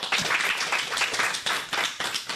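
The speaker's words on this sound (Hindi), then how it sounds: "तो आइए तालियों से स्वागत करें" An audience at a school programme claps to welcome a young girl, with steady rhythmic clapping at moderate volume and no talk.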